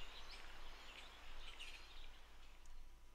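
Faint ambient birdsong in an Unreal Engine 4 level, scattered high chirps and short calls drifting over a low, quiet background hum.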